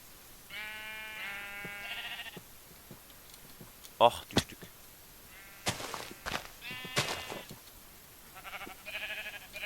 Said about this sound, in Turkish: Koyun sesleri geliyor.